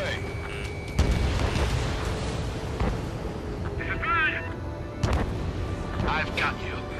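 A fighter jet fires a missile in the combat flight game Ace Combat 7, with loud booming launch bursts near 1 and 5 seconds over continuous engine roar and radio chatter.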